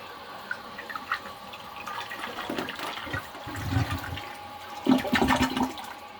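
A Kohler San Rafael toilet fitted with a water guard flushes close by, a rushing gurgle of water that swells midway and surges again near the end, with no talk over it.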